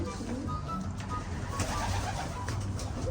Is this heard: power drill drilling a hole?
no